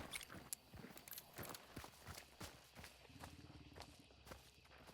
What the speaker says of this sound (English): I hear multiple footsteps.